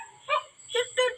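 A dog that fell into a well in Kerala whimpers in three short, high, tonal whines, close and fairly faint, with quiet gaps between them.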